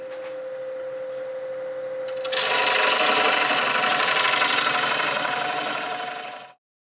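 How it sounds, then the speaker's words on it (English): A half-inch bowl gouge cuts a tenon into a walnut blank on a lathe turning at about 750 RPM: a steady hum gives way to a loud, continuous scraping rasp that runs for several seconds, then stops abruptly. "I'll do that with my 1/2 inch bowl gouge."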